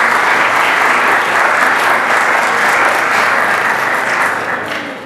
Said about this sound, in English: students, can you give your families a round of applause for all their support?